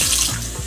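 Water running steadily from a sink tap while rinsing a child's curly hair, a close continuous splashing flow.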